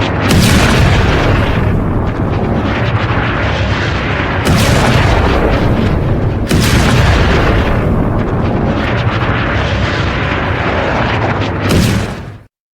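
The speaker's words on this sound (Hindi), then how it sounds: "ये एक और हमला है, इजरायली हमला जो हिजबुल्लाह के ठिकाने पर है।" Israeli strike on a Hezbollah position: a series of loud, heavy booming blasts, four or so in succession, each with a long rumbling tail, ending abruptly.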